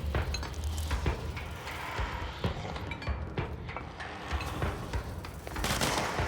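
Player gunfire in the Control video game cracks out in quick, sharp shots scattered irregularly over a busy, moderately loud mix of combat effects during run-and-gun action.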